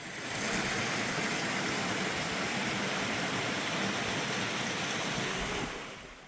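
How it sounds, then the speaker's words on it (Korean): Water in a mountain valley stream beside a canyon trail rushes in a steady, dense wash, loud and continuous with no voices. "길 바로 옆으로 계곡이 흘러서 물소리도 시원하네요."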